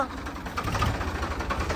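A Ford 3600 tractor engine idles with a low, steady chugging rumble close by, with no other sounds breaking through.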